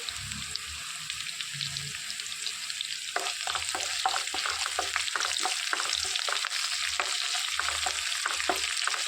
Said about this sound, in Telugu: ఒక రెమ్మ కరివేపాకు తీసుకున్నామండి అది వేసుకొని వేయించుకోవాలి